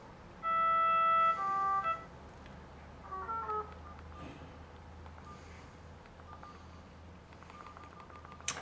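A ringtone melody followed by short electronic alert tones plays from an Ulefone Armor Flip rugged flip phone, clear over a quiet room hum with a few faint clicks.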